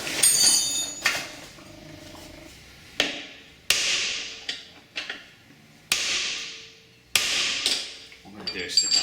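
Heavy metallic hammer blows ring out one at a time on a steel drift driven against a seized motorcycle swing arm pivot bolt, each strike sharp and loud with a long fading ring between hits.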